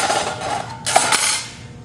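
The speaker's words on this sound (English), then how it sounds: "Now this one I can get with a sheet metal punch." A handheld sheet metal punch bites through thin sheet metal for a tool box, a harsh close metallic crunch and scrape with a sharp snap near the middle, no talking.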